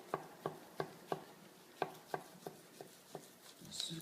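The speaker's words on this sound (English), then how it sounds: "Cut a nice steak." A butcher slicing a beef steak with a knife on a board, giving about eleven evenly spaced soft knocks, close but quiet, with a faint brush of movement at the end.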